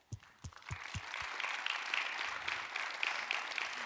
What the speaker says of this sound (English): I'd like to ask you to please join me in giving a round of applause to our last two speakers.